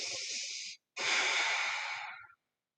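Two long breaths during a yoga side angle pose, a close airy inhale then a fuller exhale after a short pause, with nothing else around them.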